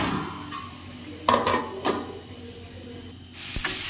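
A metal lid set onto a cooking pot of curry after milk is stirred in, giving two sharp clanks close by, then a quieter clatter over a faint steady hiss.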